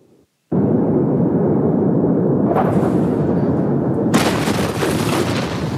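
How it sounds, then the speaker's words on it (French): Blasts and crackling bursts like fireworks going off at the 2020 Beirut port before the massive explosion, a loud continuous roar of booms and rumbling throughout, with sharper bright bursts joining midway and near the end. "you can see white flashes, what appear to be fireworks, going off before the massive explosion"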